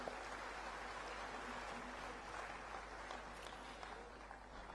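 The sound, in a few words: audience applause for the performing artists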